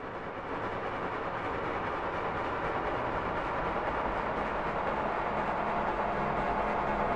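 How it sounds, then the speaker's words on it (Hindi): A passenger train pulls away from a station platform with a continuous, dense rumble and hiss of rolling wheels and carriages that builds slightly and stays steady throughout, with no voices. "और बस कुछ देर में ट्रेन धीरे धीरे प्लेटफॉर्म से आगे बढ़ने लगी।"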